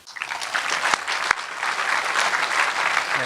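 Audience applause at an architecture awards dinner, dense steady clapping from a large seated crowd that swells quickly and holds, with a couple of sharper claps standing out.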